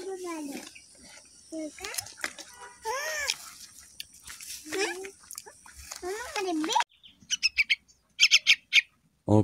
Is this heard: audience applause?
no